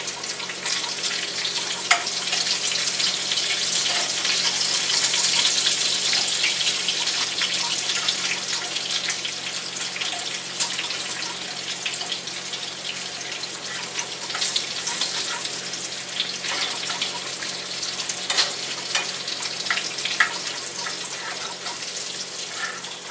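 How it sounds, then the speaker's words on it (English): Pot of water at a full rolling boil with eggs inside, a constant bubbling hiss with small pops and gurgles, close and steady, no talking. "that's a full boil on them eggs right there"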